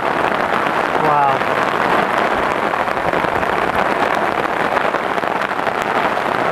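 Hard rain drums steadily on a fishing tent at a carp lake during strong winds, a dense, close hiss that fills the clip throughout.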